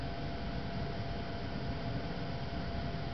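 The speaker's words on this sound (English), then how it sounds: "So the inducer draft motor comes on first," A Trane 95% gas furnace's inducer draft motor runs as the unit fires, giving a steady, even whir and hum with a broad hiss, continuous and unchanging, with no voices.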